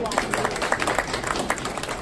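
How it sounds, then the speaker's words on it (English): Audience clapping for the school principal at a parents' feedback and motivational session, a dense patter of hands over about two seconds with people talking underneath. "So please everyone clap for our principal sir."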